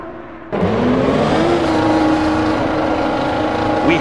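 Formula One car pulling out of the pit lane at the Nürburgring in the F1 2006 racing game: an engine note rises sharply into a loud, steady high-pitched whine that holds near and constant with no talking.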